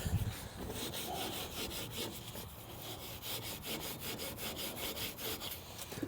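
A 1955 Chevy bumper scrubbed by hand with steel wool, a steady rough back-and-forth rasping that repeats in fast strokes throughout, close and fairly loud with no talk.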